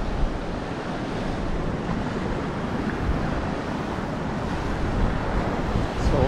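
Ocean surf at high tide rolls in at dusk, a steady broadband wash of breaking waves mixed with wind rumble on the microphone, moderately loud and continuous with no voices.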